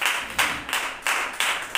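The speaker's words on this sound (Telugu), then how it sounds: "చప్పట్లు కొట్టి ప్రార్థన" A church congregation claps hands together during prayer at a Sunday service, giving crisp, loud, evenly spaced claps about every third of a second in a steady rhythm, with no talking over them.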